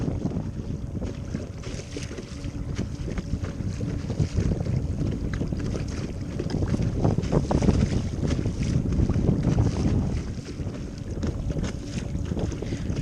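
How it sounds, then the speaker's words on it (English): Kayak out on open water in wind, its hull and paddle slapping into choppy wind-blown waves amid steady splashing and gusty wind rumble on the microphone, with no talking. "it's definitely hitting some of these waves as the wind's blowing them up"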